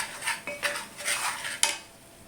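Spatula or spoon scraping and clinking in a pan as onions fry for okra masala, a few quick stirring strokes with metallic scrapes and one sharp clack, close and fairly loud with faint sizzle underneath.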